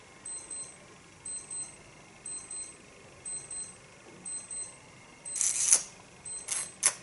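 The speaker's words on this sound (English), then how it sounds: "It's just an alarm going off." An alarm beeps in short repeated high-pitched bursts at a steady rhythm, moderately loud, with a few louder broadband rustles near the end and no talking.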